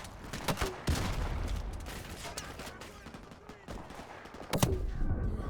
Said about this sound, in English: What the hell is that they're shooting me with?